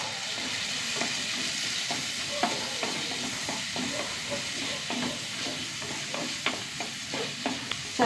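Small shallots, green chilies and curry leaves frying in a pan, with a steady crackling sizzle and frequent sharp spatula scrapes and clicks, close up and free of speech.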